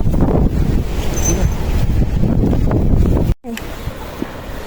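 Strong storm wind roars across the slopes of Mount Merbabu, a dense, steady rush buffeting the microphone, cut by a brief dropout before the gusting resumes.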